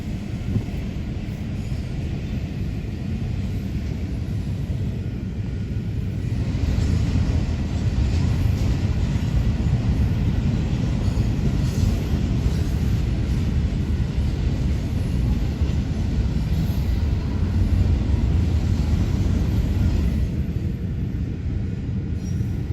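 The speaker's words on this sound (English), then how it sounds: "Still the trains are rolling." Trains roll past a neighborhood near Six Flags, a steady, broad, low rumble at moderate distance that swells slightly midway and carries on evenly with no voices.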